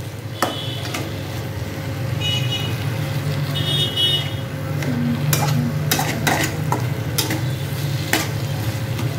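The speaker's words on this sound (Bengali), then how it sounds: "টমেটোটা একটু ভাজা ভাজা করে নেবো।" Tomatoes frying in a pan as the fish curry is cooked, with a steady sizzle and repeated stirring clinks and scrapes, a low hum behind and a few faint toots from outside.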